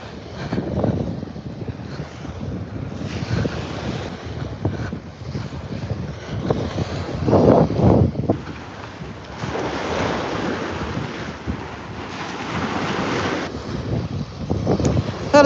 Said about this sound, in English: the ocean sound is very,